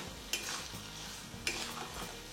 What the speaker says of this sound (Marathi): तर आपला तेल सुटेपर्यंत आपण मसाला परतून घेतलेला आहे.